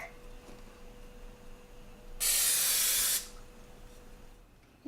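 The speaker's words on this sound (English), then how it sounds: "Now I'm gonna spray the pan so they don't get stuck" A single one-second hiss of cooking spray, loud and close, against a quiet room hum; no talking.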